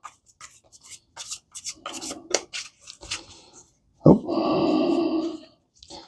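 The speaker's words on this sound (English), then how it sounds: "I'm like one or two more shuffles." Close-up shuffling of a tarot deck, with scattered rubs and slides of the cards followed by a louder, sustained burst of riffling near the end.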